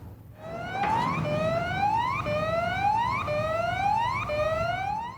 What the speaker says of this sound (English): warning sirens sound to alert the workers